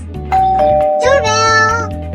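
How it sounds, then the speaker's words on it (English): A doorbell chimes in a cartoon dub, a clear, loud two-tone ding-dong ringing alone for about two seconds. "Doorbell!"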